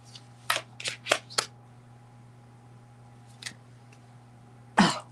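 Tarot cards are shuffled in several quick, close riffling bursts over a low steady hum, followed by a pause and one final louder shuffle.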